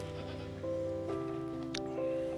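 Goats and sheep on a farm bleat in overlapping, wavering calls that form a continuous, fairly loud chorus.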